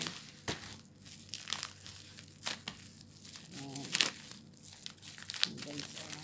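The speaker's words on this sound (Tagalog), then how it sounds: "Gamitin natin ng gunting." Scissors cut open plastic packaging of Beauty White soap: crinkling and crackling plastic, with sharp snips and rustles close up, while someone talks over them.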